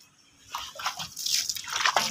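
Water thrown and splashing over a bicycle during a wash with detergent, a few splattering bursts close by with dripping in between, no talk.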